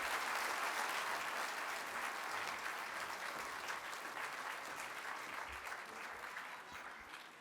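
Audience applause welcoming the President and Chief Operating Officer at a downtown Duluth annual meeting and celebration, a steady wash of clapping across the whole stretch that thins slightly toward the end, with no voices over it.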